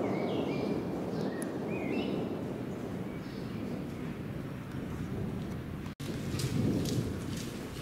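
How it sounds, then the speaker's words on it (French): Thunder rumbles through a steady rain shower over the lakeside village of Orta San Giulio on Lake Orta in Piedmont, Italy, a continuous low, wide roar with faint bird chirps above it and no speech. "Et voici le tonnerre à présent."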